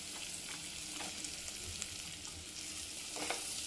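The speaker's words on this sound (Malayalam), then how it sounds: "കട്ട് ചെയ്ത് വെച്ചിരിക്കുന്ന സവാള ചേർത്ത് കൊടുക്കും" Sliced onions frying in a pan for a brinjal curry, a faint, steady sizzle with soft scraping stirs every second or so, no voices.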